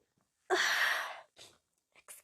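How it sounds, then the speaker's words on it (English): A single loud sneeze bursts out, sharp and breathy, followed by a few quieter breaths and small mouth sounds close by. "I'm about to sneeze."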